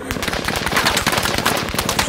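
Rapid automatic gunfire sound effect, a loud, dense burst of closely spaced shots rattling continuously from start to finish.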